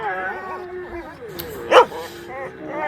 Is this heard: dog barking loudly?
yes